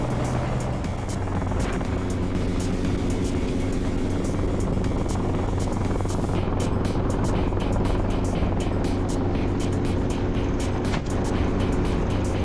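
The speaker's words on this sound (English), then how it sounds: "Small, nimble, fuel-efficient, Robinson R-44 or R-66 helicopters are the most commonly used" A small Robinson R-44 or R-66 helicopter flies low, a loud, continuous rotor and engine drone with steady pulsing blade chop throughout, close and unbroken.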